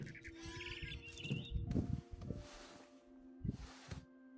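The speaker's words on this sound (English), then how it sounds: "Then I heard chirping outside my window. It was a barn swallow going back to her nest." Bright barn swallow chirps in the video game What Remains of Edith Finch flutter over a rustling, breezy background, with a few short tweets rising above a low, steady hum.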